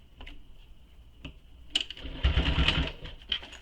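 A sewing machine topstitching fabric at a lengthened stitch gives faint scattered ticks, then a short, quiet whirring run of stitches.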